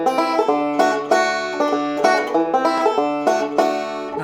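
Banjo plays a steady forward roll from a song, thumb, index and middle picking a bright, evenly pulsed run of plucked notes. The playing is close and clear, alone with no voices.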